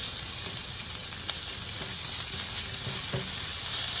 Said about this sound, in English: I'm going to add this ground meat.